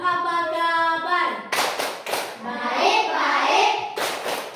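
Schoolchildren in an Indonesian primary classroom clap out the 'tepuk apa kabar' chant, a run of sharp group claps in rhythm with chanting voices, close and lively.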